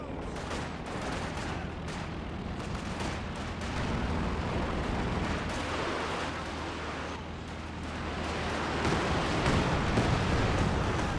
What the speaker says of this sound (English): Pretty decent walking Stuka barrage once more.